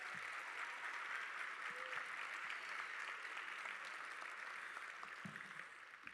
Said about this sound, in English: So let's give a big old round of applause